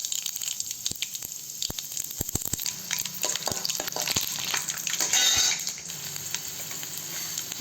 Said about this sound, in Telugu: కొద్దిగా ఆయిల్ వేసుకోవాలి. చెనిగ్గింజలు వేసుకోవాలి. దీంట్లోనే ఆవాలు వేసుకోవాలి.